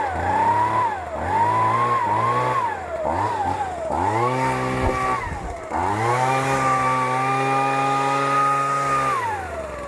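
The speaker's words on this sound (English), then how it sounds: "I've just given the driveway a bit of a blow off, a bit of a rough one with the blower" A petrol leaf blower clearing a driveway on acreage, loud and close, its engine revving up and down in repeated surges before holding a long steady whine.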